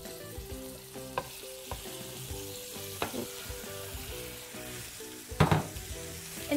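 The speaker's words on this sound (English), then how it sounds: "So I'll add that mince into the pan." Beef mince dropped into a hot pan for a paleo stir-fry, a sustained close sizzle punctuated by several spatula knocks and scrapes, with a louder burst of clatter toward the end.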